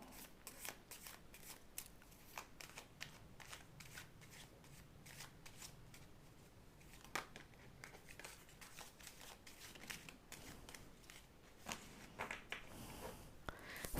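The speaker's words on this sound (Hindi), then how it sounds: "पाइल 2 के लिए अब कार्ड्स निकालेंगे हम।" Tarot cards being drawn and handled for a reading, a quiet run of quick papery flicks and shuffling slides close by, with no voice over them.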